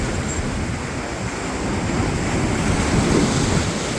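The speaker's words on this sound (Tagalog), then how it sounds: "Malakas yung alon." Strong surf at high tide on Boracay during the habagat monsoon roars continuously with wind buffeting the microphone, a loud, steady wash of breaking waves swelling slightly toward the end.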